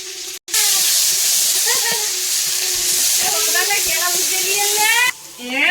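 Spice paste with panch phoron, bay leaves from a home tree, sizzling loudly in hot oil, a steady close frying hiss with bursts of spitting, while a voice talks over it.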